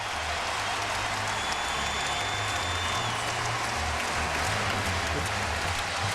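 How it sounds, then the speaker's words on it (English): A basketball crowd at Allen Fieldhouse, Kansas, stands and cheers after a fast-break score in a 2007-08 college game, a loud, dense, steady roar filling the whole clip with no pauses. "they are standing and cheering here at Allen Fieldhouse"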